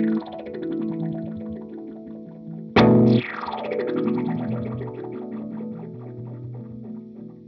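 Electric guitar through a BOSS Tera Echo TE-2 delay pedal rings out with long, smeared echo trails, a loud strummed chord midway blooming into a wash of repeats that slowly fade.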